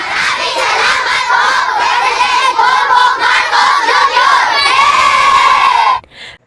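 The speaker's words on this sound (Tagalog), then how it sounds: "ang sarap pong pakinggan ang tinig ng mga guro at mga estudyante na sumisigaw at umaapaw ang saya" Teachers and students at an elementary school shout and cheer with joy, a loud, sustained crowd of mostly children's voices that cuts off abruptly at the end.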